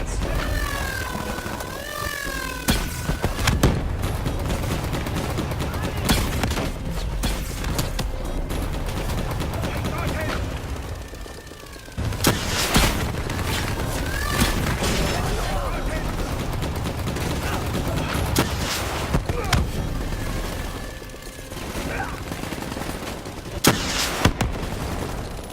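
Rapid gunfire from a Black Ops 3 campaign mission shoots down bats, with repeated loud bursts of shots and sharp cracks across the whole stretch over game ambience.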